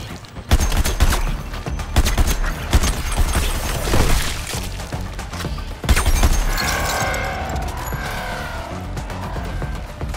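Dense, loud gunfire at an incubator in Suicide Squad: Kill the Justice League, with rapid shots, bursts and heavy impacts in waves and a whining effect near the end.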